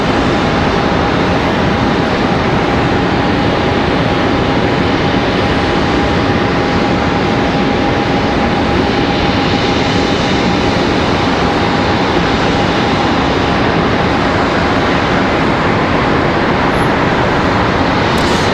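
A Delta Embraer E175 airliner lands at Charlotte Douglas airport, a loud, steady jet roar with a faint tonal whine that holds without a break.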